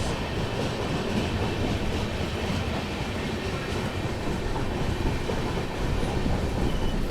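The Thirukkural Express passenger train runs on rails through rain between Chennai and Vijayawada, heard from inside as a steady, dense rumble and rattle of wheels on track with no breaks throughout.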